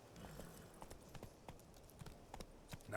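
Hooves of Roach, Geralt's horse in The Witcher 3, clip-clopping at a steady trot amid faint game ambience, moderately quiet with no talk.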